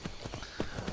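Horse hooves clip-clop in a steady rhythm while riding on horseback in Skyrim, the beats moderately loud and close against a soft game background.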